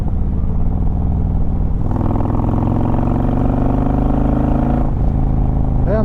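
Harley-Davidson motorcycle engine in sport mode, idling then revving up with rising pitch for a few seconds before dropping back, loud and close, no talk.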